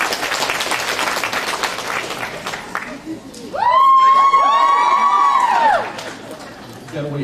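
A comic convention panel audience claps and cheers loudly for several seconds after earlier speech, then the noise fades back to murmuring.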